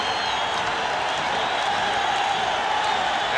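Dense, steady roar of a large basketball arena crowd at a Lakers home game in the 1991 NBA Finals against the Chicago Bulls, a constant wash of cheering and noise with no clear breaks.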